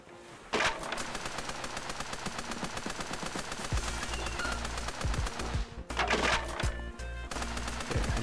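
Rapid, continuous AK-47 automatic fire in the video game Super Raft Boat Together, dense sharp bursts with heavy low impacts layered in, loud throughout with a brief gap.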